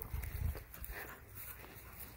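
A dog pants close by after snatching a shoe, quick breathy puffs in a short burst with some rustling and low thumps, no talking.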